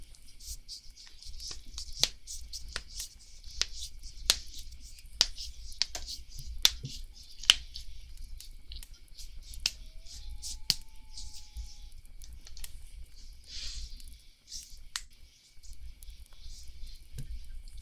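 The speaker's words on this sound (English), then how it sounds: "I gotta crack my knuckles, so get ready for some joint poppin' ASMR" Knuckles cracking and joints popping close to the microphone, a series of about a dozen sharp, isolated cracks at irregular intervals over quiet room tone, with faint breathing between them.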